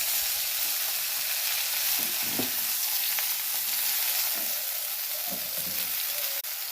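Bottle gourd leaves and potatoes fry in a pan with a steady, close hiss and sizzle throughout, a few soft stirring scrapes now and then and a small clack near the end.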